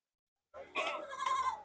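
Dairy goats bleating at a livestock market, a short burst of two or three wavering calls starting abruptly after a brief silence, fairly close and clear.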